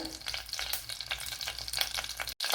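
Fenugreek seeds sizzle and crackle steadily in hot oil in a pan while green mango pulissery is prepared, with a constant close frying hiss and occasional stirring scrapes.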